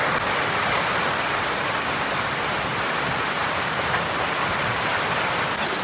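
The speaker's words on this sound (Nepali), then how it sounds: "पानी पर्यो पानी पर्यो अरे पानी पर्यो" Heavy rain pours down in a dense, unbroken wash of noise, loud and steady for the whole stretch, with no voices.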